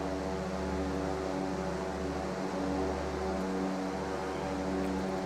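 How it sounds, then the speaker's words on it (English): A P-3 propeller patrol aircraft drones steadily in the naval game Sea Power, a continuous low humming engine tone with layered harmonics, even and unbroken throughout. "The P3 is a very slow plane."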